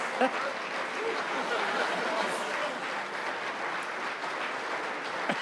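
A studio audience gives steady, sustained applause at moderate volume, a continuous even patter of clapping with no break.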